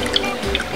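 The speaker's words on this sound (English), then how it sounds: "A little bit of lemon juice for you." Lemon juice poured into a pint glass while mixing an El Guapo tequila cocktail, a short, close liquid drip and trickle lasting under a second, fairly loud with no talk over it.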